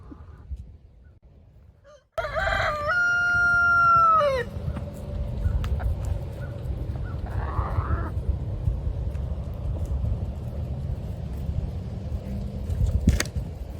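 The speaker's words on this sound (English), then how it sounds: "it's like a cock-a-doodle-doo contest" A single rooster crows once, fairly close, on a homestead, over a low background rumble, followed by quieter scattered clucks and ambient noise.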